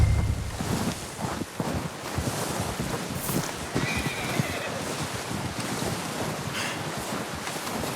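A horse whinnies in the video game Red Dead Redemption 2 amid a steady wash of wind and rushing noise, the call rising briefly above the dense background.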